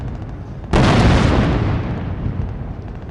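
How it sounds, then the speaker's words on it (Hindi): A tank fires during an army day demonstration: one sudden loud boom with a sharp onset, then a long rumbling decay that fades over a few seconds. "टैंक शत्रु पर प्रहार करने के साथ साथ हमारे पैदल सैनिकों के लिए धुएं का एक गुबार बनाते हैं"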